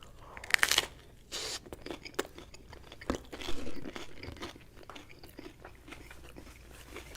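Someone bites into and chews buffalo chicken pizza topped with sour cream and tomato, giving a few close, crisp crunches followed by quieter, wetter chewing and brief pauses.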